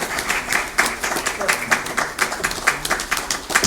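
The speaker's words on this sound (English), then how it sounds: "A round of applause, ladies and gentlemen, for Session Chair Mr. Brij Mohan Bansal." Audience applause at an Indian oil and gas industry conference session, a brief round of clapping with distinct claps standing out at a steady rhythm through the hall.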